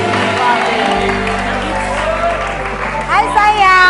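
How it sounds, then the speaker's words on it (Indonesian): Studio audience applauds for Lesti and Salsa, a steady clapping wash under ongoing talk, with shouts and whoops rising near the end. "Tepuk tangan ada Lesti sama Salsa."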